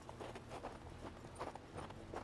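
Horses walking in the Hard West 2 video game, a soft uneven clip-clop of hooves, faint and close, repeating for a couple of seconds.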